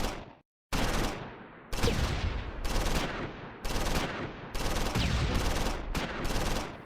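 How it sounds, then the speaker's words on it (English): Medium machine gun suppressing fire in the World War II strategy game Close Combat 4, set in the Battle of the Bulge at Wiltz: dense, loud bursts of automatic gunfire repeating in quick succession, separated by very brief pauses. "Second Platoon's medium machine gun commences suppressing fire."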